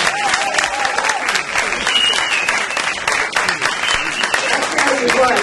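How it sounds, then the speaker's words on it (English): Sustained, loud audience applause at a gospel event in a community gathering, dense steady clapping filling the whole stretch with a faint crowd murmur beneath. "Can you give them another round of applause?"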